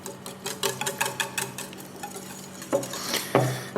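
A utensil stirs orange juice into sour cream for cake batter, with repeated wet scraping and clinking against the bowl in an uneven rhythm, close and fairly clear.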